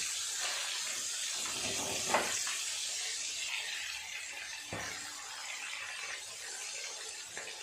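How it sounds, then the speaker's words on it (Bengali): Pieces of fatty pangas fish fry in oil with a continuous, fairly faint hiss and sizzle. A couple of brief crackles break through the hiss, and no one speaks. "মাছগুলো ভাজা হয়ে গেছে, তুলে নেব"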